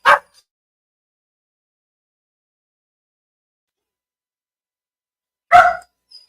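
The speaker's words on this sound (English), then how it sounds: "the dogs are going crazy" Dogs bark in two short bursts, one right at the start and another after about five seconds of silence, fairly close and loud, with no talking over them.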